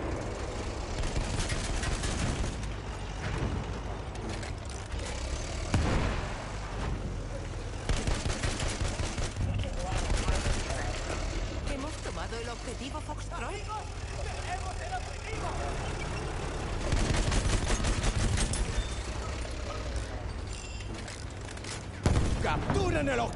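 Enemy machine gun fire in a war video game, a continuous rattling barrage with engine rumble and battle noise throughout, under a voice shouting game callouts.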